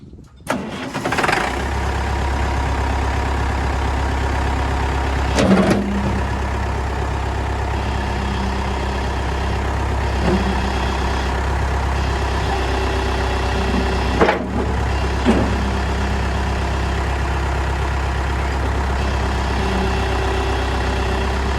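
A Massey Ferguson 30 industrial tractor engine cranks over and catches, then settles into a steady, loud diesel idle with a deep low rumble, punctuated by a few brief clunks and revving bumps along the way.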